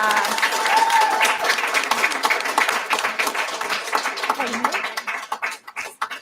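Applause from a community council meeting audience right after a motion passes, a dense burst of clapping that starts loud and thins into scattered claps as it fades out.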